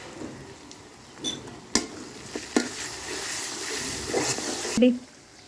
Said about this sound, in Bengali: আমরা এখন কষিয়ে নিলাম মাংসটা ভালো করে